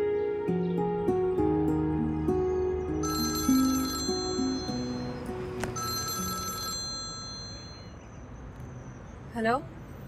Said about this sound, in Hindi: एडम, तुमने मुझे क्यों फोन किया है?